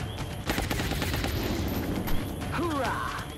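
Rapid gunfire bursts in the video game XCOM: The Long War, a dense rattling volley at moderate loudness followed by whooshing, rising tones and game effects, with a voice present.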